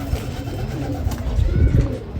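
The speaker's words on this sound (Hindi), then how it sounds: "ये मेन बड़ा कबूतर है" Pigeons coo in low, throaty rolls at close range, a big male pigeon among a fancier's topi-breed birds, the soft cooing running steadily under a quiet room tone.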